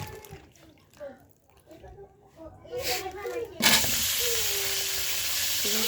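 Vegetables hit a hot pan of oil and break into a loud, steady sizzle that continues unbroken, following a stretch of quieter kitchen sounds and a person talking.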